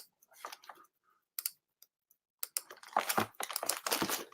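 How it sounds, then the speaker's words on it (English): A computer keyboard clatters with bursts of quick, close typing clicks, sparse at first and then dense and rapid, with no talk over it. "A lot of clicking going on over here."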